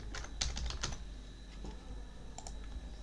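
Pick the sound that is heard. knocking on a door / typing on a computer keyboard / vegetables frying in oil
typing on a computer keyboard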